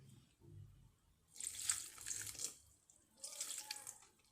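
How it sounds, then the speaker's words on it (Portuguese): Water pours from a tap in two bursts, the second shorter, added to sourdough bread dough with seeds and dates in a home kitchen; fairly soft and close, with no talk. "E agora vamos adicionar a nossa água."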